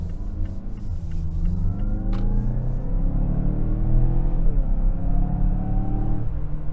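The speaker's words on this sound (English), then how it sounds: "But Mazda, that engine sound is" A 2025 Mazda CX-5 engine revs with a steady, loud rumble and rising drone heard from close by, continuous for several seconds with no talking.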